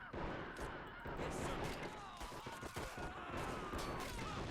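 An artillery strike on World War I trench lines in Belleau Wood during a real-time strategy battle: quiet, distant rumbling blasts and scattered rifle fire that blend into a steady wash of battle noise.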